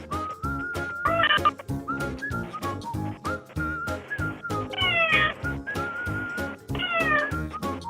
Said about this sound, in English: This cat is desperately trying to alert the owner to open the door.